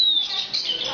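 A cockatoo and an African grey parrot call indoors, with a sharp, close, high whistle that sweeps downward and then trails off into a briefer chirpy warble within about a second.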